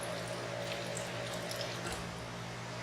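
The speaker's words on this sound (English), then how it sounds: "we will dispense from each valve until there's only water coming out" Water flows from a valve on a Quest Elite cleaning chemical dispenser during daily cleaning, a steady close-up rushing stream with a faint tonal whine running underneath the whole time.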